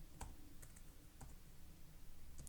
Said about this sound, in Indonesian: kemudian klik tab di keyboard